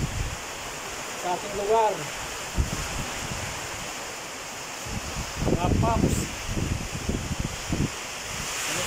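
Strong typhoon wind and heavy rain under Signal No. 3 in San Fernando, Nueva Ecija, a steady broadband roar that surges and eases, with someone talking close by over it.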